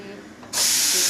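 A sudden loud hiss of steam bursts out of a pressure cooker of potato dum khichdi after a brief quiet moment and keeps blasting steadily.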